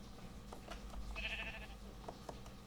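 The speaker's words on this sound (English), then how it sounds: "Let's see if we can get this sheep to go down into this pen" A sheep in Minecraft, a black one, gives a short synthetic bleat midway through, faint and set over a low background hum, with no talking heard.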